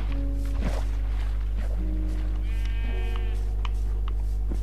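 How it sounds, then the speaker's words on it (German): A Minecraft sheep bleats a couple of times over a steady low hum, with faint soft steps and tones in the background. "Ein mähendes Schaf."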